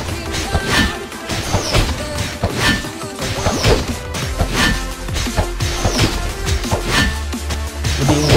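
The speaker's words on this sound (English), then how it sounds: "Hitting medium size dummy" A sword strikes a medium-size training dummy in the video game Ragnarok Origin, giving a steady run of loud, close smashing hits with swishing swings and ringing effects, and no talk.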